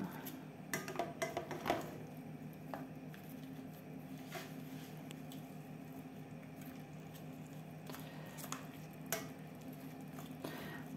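Food being mixed in a dish, with soft squishing and a few light taps of a utensil early on, then quiet, faint stirring noises against a steady low background hum.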